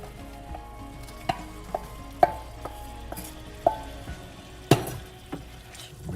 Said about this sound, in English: Now I'm going to add all the eggplants, the green chili in there, and then cook it for another few minutes